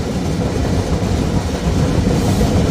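Rolling through a station on a wide curve, the Banalata Express gives a steady, loud, nearby rumble of wheels and carriages in light rain, with dense rapid clatter throughout.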